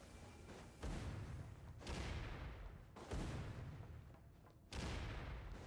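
Heavy blasts boom one after another at the Armory Palace in Genshin Impact, four or five loud explosions with rumbling tails arriving about a second apart.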